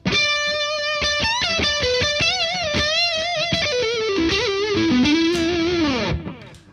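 A heavily distorted electric guitar on its neck pickup, with DiMarzio AT1 and Cruiser pickups, plays a sustained, fairly warm melodic line with bends and slides, loud and steady, ending with a fading note.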